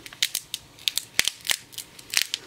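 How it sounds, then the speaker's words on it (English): Transfer tape peeled slowly back off weeded vinyl lettering, giving a series of sharp crackling snaps and ticks in irregular bursts, close and fairly loud, with no voices. "peel the transfer tape right directly back onto itself"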